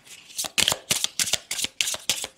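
Oracle cards being shuffled in a run of quick riffling bursts, about seven crisp papery flurries close to the mic with short gaps between, no voice over them.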